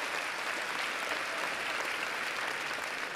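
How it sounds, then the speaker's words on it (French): Steady applause from an audience at a graduation ceremony, a dense, even wash of many hands clapping throughout with no pauses, moderately distant and filling the hall. "On peut les applaudir s'il vous plaît, merci beaucoup."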